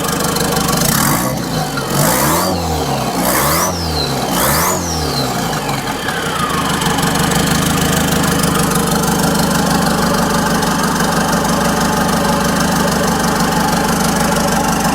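A turbocharged 1998 Chevy Tracker engine revved in four quick, rising bursts, each with a whining turbo spool, then settling into a steady, rough idle with a faint turbo whistle, loud and close with no talking.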